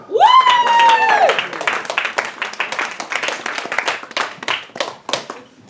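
Clapping from a live audience starts under a loud sustained shout or cheer, then continues as a steady round of applause from a roomful of people for about five seconds, fading slightly toward the end.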